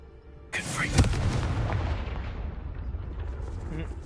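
A Confringo fire spell in Hogwarts Legacy bursts with a sudden loud blast, followed by a rumbling, crackling tail that slowly fades away.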